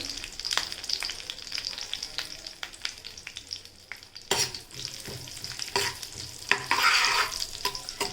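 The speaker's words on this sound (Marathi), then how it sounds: "हे जे ड्रायफ्रूट घेतलेले आपण ते ड्रायफ्रूट आपण थोडेसे लालसर होईपर्यंत चांगले भाजून घेणार आहोत" Dry fruits roasting in ghee in a pan for sabudana kheer, with a steady close sizzle and repeated scraping stir strokes of a spoon against the pan, louder bursts near the end.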